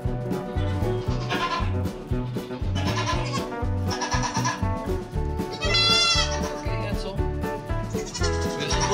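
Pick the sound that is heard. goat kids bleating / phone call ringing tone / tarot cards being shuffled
goat kids bleating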